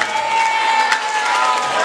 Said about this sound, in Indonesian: Kasih tepuk tangan buat yang mau bertanya.